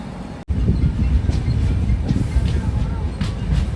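A passenger train rolls on after leaving Kadapa junction: a steady low rumble of wheels and carriage noise heard from on board, with faint rhythmic clacks. A brief dropout comes near the start.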